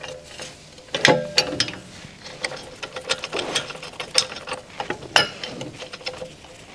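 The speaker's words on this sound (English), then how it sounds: "Use the 17mm wrench to rotate the ball joint separator screw." A 17mm wrench turning the screw of a ball joint separator on a Dodge Ram's outer tie rod end, giving close, repeated metallic ratcheting clicks in uneven bursts with short pauses.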